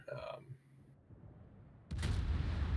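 Naval gunfire in a competitive warship video game breaks out as a sudden loud, rumbling burst of shots and blasts, with earlier quieter game sounds and a commentator's voice heard before it.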